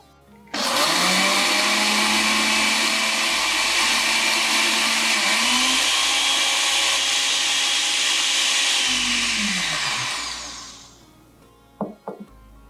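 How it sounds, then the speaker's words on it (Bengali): An electric blender grinds a wet spice paste of ginger, tamarind and a little water, whirring loud and continuous for about ten seconds with its pitch dipping as the load shifts, then spinning down to a few light clicks. "2 টেবিল চামচ পরিমাণ তেঁতুলের কাঠ এবং এর সাথে অল্প একটু জল যোগ করে সব উপকরণ মিহিভাবে বেটে নিন।"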